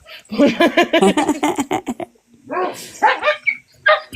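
Several dogs barking and whimpering indoors, a rapid run of yips and barks followed by a short pause and then more whiny barks, close and loud.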